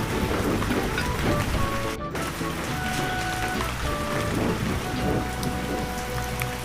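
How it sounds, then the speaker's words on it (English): Rain pounds down at night in a windy storm, a loud continuous drumming wash with occasional brief tones on top and no talking. "That night, the wind blew and the rain pounded down."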